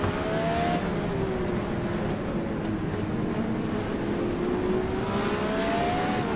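A DW-12 open-wheel race car engine in the rFactor 2 racing game drones steadily throughout, its pitch sliding slowly as it holds speed, loud and close with no talk.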